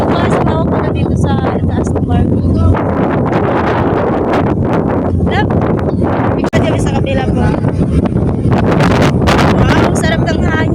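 Strong wind buffets the microphone in loud, continuous gusts on the upper deck of a ship while people talk and laugh nearby, the roar rising and falling throughout.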